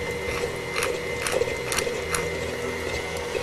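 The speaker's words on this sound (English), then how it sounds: "we're going to turn the mixer up just a little bit" An electric stand mixer runs on a low setting while mixing food in a kitchen, giving a steady mechanical whir with faint rhythmic clicks throughout.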